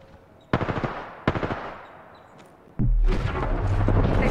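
Gunfire in the video game Apex Legends: two rapid automatic bursts, then sustained loud firing mixed with heavy low booms, close and dense.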